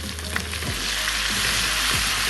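Tomatoes and green chilies frying in a pan with browned ingredients, a dense, loud sizzle close by with a couple of low stirring sweeps, no speech.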